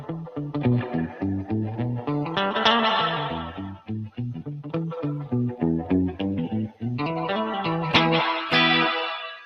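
An electric guitar played through a Universal Audio reverb pedal with the bass knob fully off, a rhythmic run of plucked chords and notes with a bright, snappy reverb tail, loud and alone.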